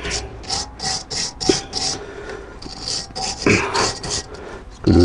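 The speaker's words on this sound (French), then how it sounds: "On en profite pour brosser le moyeu." A wire brush scrubs rust off the wheel hub of a Chrysler 300C in short, repeated rasping strokes, close and fairly loud, with a steady back-and-forth rhythm and no talk.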